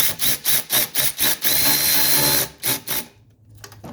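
A hand wrench brings the drain plug on a 1981 Mercedes 300SD to final torque with a rapid series of close, sharp ratcheting bursts. A longer continuous grind follows, then a few more clicks before it goes quiet.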